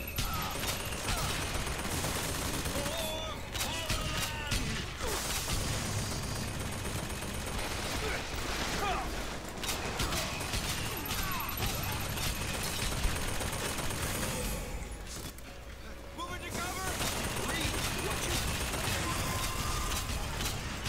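Bioshock Infinite gunfire crackles in repeated bursts over a dense background of game noise and mechanical clatter, with a brief lull near the middle before the shooting resumes.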